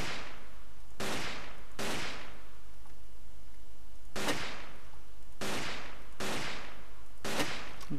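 Gunfire in the video game Ace of Spades, seven sharp loud shots at irregular intervals, each with a short decaying tail, over a constant hiss of background noise.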